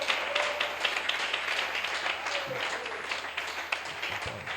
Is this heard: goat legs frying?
no